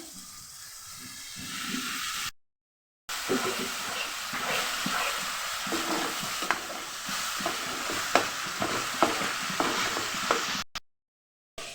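Spices and coriander leaves sauté in a pan for a fish curry, giving a steady close sizzle with scraping stir strokes, with two short breaks of silence.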